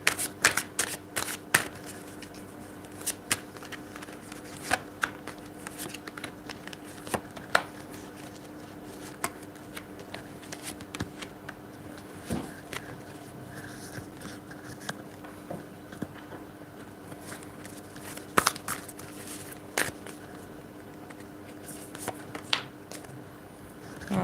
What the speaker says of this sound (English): Okay, I'm going to pull cards for DK17.